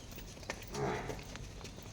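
A farm buffalo kept for sale, a third-calving milch animal, gives a single low moo-like call near the middle amid quiet background noise.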